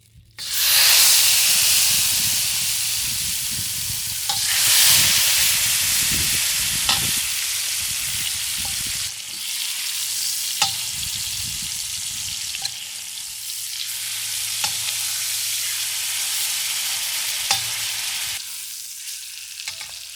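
Duck pieces pan-frying in hot oil in a wok, a loud steady sizzle with bursts of spatter and occasional clicks of a utensil against the pan, continuous and close for the whole span.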